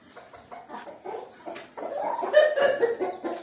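Chickens in a wire-fenced coop cluck and murmur continuously, several birds overlapping at close range and growing louder and busier toward the end.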